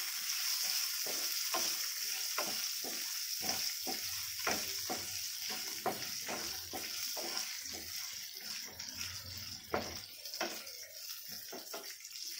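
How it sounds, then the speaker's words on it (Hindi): Ginger and garlic fry in hot oil for a kadai paneer curry, giving a steady close sizzle with repeated sharp clicks and scrapes of stirring throughout. "एक मिनट के लिए फ्राई होने देंगे।"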